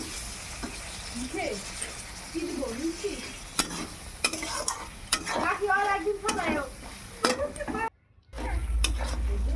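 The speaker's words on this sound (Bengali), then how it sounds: "এবার পুরো মশলাটাকে ভালো করে কষিয়ে নেব।" Spice mix with chopped tomato sizzling and frying in a pan while a spoon stirs it, producing steady close crackle and repeated scraping strokes, with brief muffled sounds in between.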